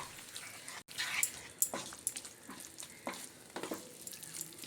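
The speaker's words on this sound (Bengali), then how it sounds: "একই সঙ্গে আলু, মটরশুঁটি আর মশলা আবারও আমি কষিয়ে নেব।" Potatoes, peas and ground spice paste sautéing in a pan, a quiet sizzle with repeated stirring scrapes and brief clatters, fairly faint overall.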